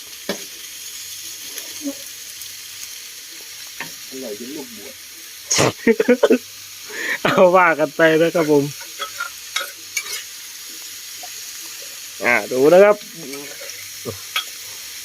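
Continuous sizzling of chicken offal stir-frying in a hot pan, with someone talking intermittently over the hiss.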